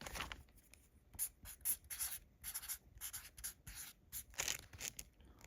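Pen scratching on paper as a name is written, a series of short quiet strokes and scribbles in irregular bursts, close and faint with brief pauses between.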